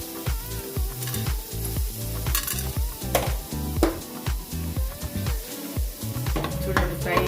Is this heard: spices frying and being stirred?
yes